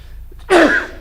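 A single sharp sneeze, close and loud, after a brief quiet intake of breath.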